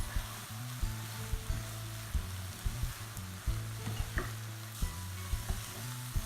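Ground coriander, fennel and garam masala powders stirred in a hot pan, with a steady low sizzle and repeated scraping, knocking strokes of a spoon at an even rhythm, close and moderately loud.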